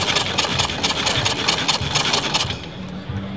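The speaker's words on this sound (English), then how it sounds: "now I'm turning the engine over" A 1914 Fielbach motorcycle engine being turned over without firing, producing a steady rhythmic mechanical scraping and rubbing cycle close up, then easing off at the end.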